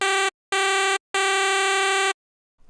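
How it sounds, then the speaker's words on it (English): Three loud, buzzy square-wave synth blasts with a slightly detuned, beating tone rising 30 cents, separated by short gaps, then silence. "So it's starting detuned and then it's going up 30 cents."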